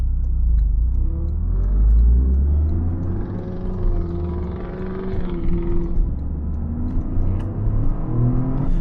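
A Toyota GR Corolla with its 300-horsepower 1.6-litre engine accelerating hard in a drag run, heard from inside as a loud, sustained engine roar with rising tones and deep rumble, no speech over it.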